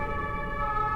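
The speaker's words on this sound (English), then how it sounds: "You know, ambulance." An ambulance siren wails in a steady, continuous tone with layered harmonic pitches, fairly loud and holding throughout the second with no voices.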